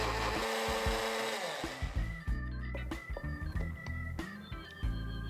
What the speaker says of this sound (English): Cover it up and give it a blend for about 15 to 30 seconds.